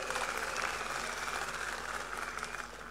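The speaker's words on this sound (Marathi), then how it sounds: "आणि एकदा जोरदार टाळ्या नरेंद्र मोदीजींच्यासाठी वाजवा" Applause for Narendra Modi from a crowd at a political thanksgiving gathering, sustained clapping of many hands, fairly distant and steady, easing slightly toward the end.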